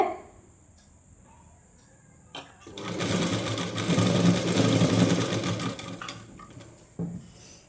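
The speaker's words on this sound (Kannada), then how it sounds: "ನಾವು ಈ ರೀತಿ ಕರೆಕ್ಟಾಗಿ ಸಮನಾಗೆ ಇಟ್ಕೊಂಡು ಸ್ಟಿಚ್ ಹಾಕೊತ ಬರಬೇಕಾಗುತ್ತೆ" A sewing machine stitching falls onto a saree starts after a quiet moment and whirs steadily and loudly for several seconds up close. It then slows and stops with a brief clack.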